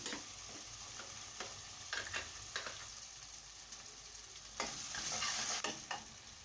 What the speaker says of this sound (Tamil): இந்த மசாலா பொருளை எண்ணெய் பிரிகிற வரைக்கும் இதை நல்லா வதக்கிக்கலாம்